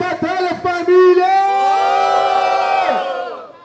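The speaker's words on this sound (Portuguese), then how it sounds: "Barulho só pra quem achou que foi Jovem X, família!" Crowd at an outdoor rap battle in a Rocinha street cultural circle erupting in loud, sustained cheering and whooping for several seconds, then tapering off near the end.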